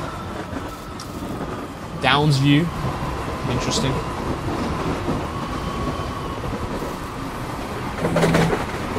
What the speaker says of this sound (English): Oh god, there's a lot of trains passing by.